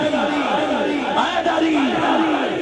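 A crowd at a devotional naat gathering in Kallar Kahar chants a slogan in rhythmic, repeated bursts of loud massed voices, about six pulses in under three seconds.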